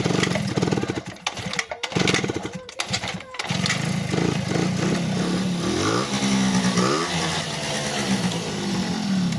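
A Honda Dio scooter's small two-stroke engine runs close up, first sputtering and cutting out briefly, then idling steadily with a buzzing drone and a few blips of rising and falling revs.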